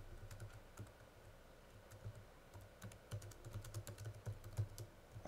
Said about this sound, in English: I just type out what I want